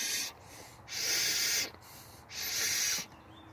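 Air drawn through a GM turbo port check valve in two separate steady hissing pulls, each about a second long, close and fairly quiet, with short pauses between them.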